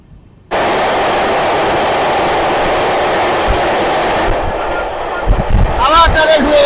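Kolkata Sairang Express train pulling away from Haratki station, a sudden, loud, sustained rumble and wind rush from on board, with clanks and a squeal of wheels building toward the end.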